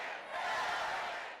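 A distant crowd of thousands at Hillary Clinton's election eve rally on Independence Mall cheers and roars in a steady, faint wash of voices.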